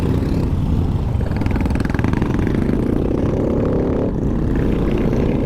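A Royal Enfield Himalayan or Bullet 500 in poor condition rides a rough mountain road, its engine thumping loudly and continuously with heavy wind rumble, unbroken for several seconds.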